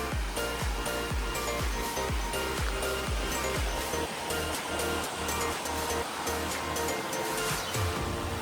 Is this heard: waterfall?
yes